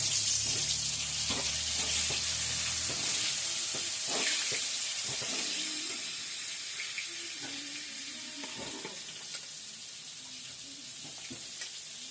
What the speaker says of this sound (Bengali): তেলটা গরম হয়ে গেলে এবার পটলটা ছেড়ে দেবো।